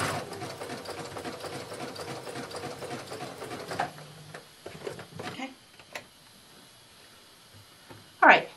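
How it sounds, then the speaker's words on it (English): A sewing machine stitches swim shorts fabric with a steady rapid mechanical chatter for several seconds, then stops, leaving a few soft clicks and handling noises and a sharp scrape near the end. "Lower my presser foot again and continue sewing."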